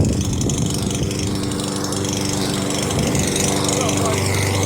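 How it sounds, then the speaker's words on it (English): A lawn mower runs steadily nearby, a continuous loud engine drone with a rough buzzing texture that holds for the whole stretch without pause. "A lawnmower."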